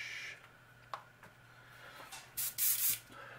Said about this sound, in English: we are going to spray about 3/4 of the way down the bait